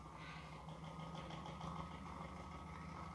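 Small high-efficiency radial flux BLDC motor running on its controller, a faint steady hum with a fine even whine, no talk.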